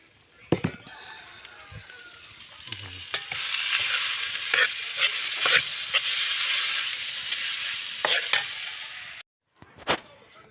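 Mung beans go into a hot pan and fry with a continuous sizzle, broken by sharp clacks and scrapes of a utensil stirring, and a brief pause near the end.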